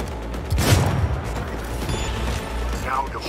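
Gunfire in the video game Cyberpunk 2077, a single loud burst of shots near the start, then mechanical clatter and low rumble continuing underneath.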